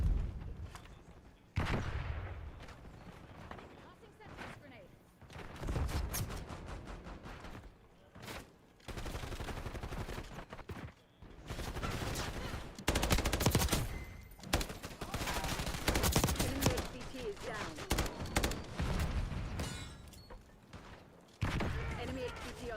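Dense bursts of gunfire, including shotgun blasts, fill a Snowbreak match, loud clustered volleys under a game voice and talk.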